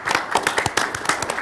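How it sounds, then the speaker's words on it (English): Audience at a Vernon Township council meeting claps for financial staff, a scattered round of moderate hand claps with uneven rhythm, fairly close and steady throughout. "I think that our financial staff deserves a round of applause."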